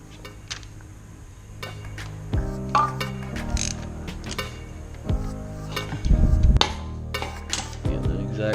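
Ratchet tightening a 1/2 inch bolt during an oil change on a 2017 Husqvarna FE350 motorcycle, giving bursts of mechanical clicking and metallic clinks with a few louder knocks, close and fairly loud in a workshop.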